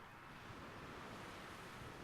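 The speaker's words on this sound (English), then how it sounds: "Listen to the ocean." Ocean surf washes steadily onto a beach in a continuous broadband roar, with light wind noise buffeting the microphone and no voices.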